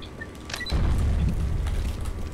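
A bomb blast in the Grenade Combat game's office map, a loud low boom that hits partway in and rumbles on at a steady level for the remaining couple of seconds, with faint clicks and tones in the background.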